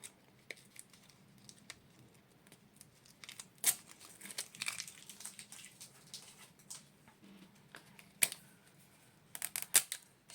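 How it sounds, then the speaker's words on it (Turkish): Plastic packaging of a Disney Mini Brands toy capsule being torn and opened by hand, giving soft intermittent crinkles with a few sharper rips and snaps, close up and without speech. "Şimdi paketimizi açıyoruz."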